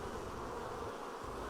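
Honeybees buzz in a dense, steady drone, as from a busy hive, continuous and close with no voices over it.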